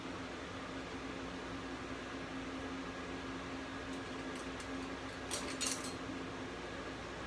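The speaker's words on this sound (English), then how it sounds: "So I'm going to go ahead and pop this in the microwave." A microwave oven runs with a steady, even hum and fan whir throughout, with a brief faint metallic clink near the end.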